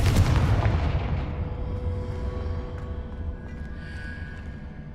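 A Confringo explosive fire spell goes off in the Hogwarts Legacy video game, one heavy booming blast that opens loudly and then rumbles away over several seconds with a lingering tail.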